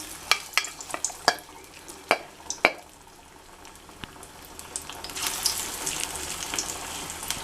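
Drumstick flower fritters coated with sesame frying in oil, a run of crisp utensil taps first, then a soft bubbling sizzle that swells louder and denser toward the end.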